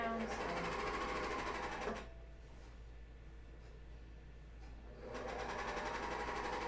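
A serger or coverstitch machine stitches cheap elastic onto underwear in two steady runs separated by a quieter pause, with a brief spoken word near the start.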